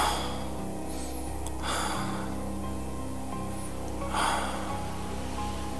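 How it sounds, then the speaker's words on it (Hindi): Two slow, heavy breaths rise and fall close by over a low, sustained musical drone. "पीछे से किसी की सांसों की आवाज आई"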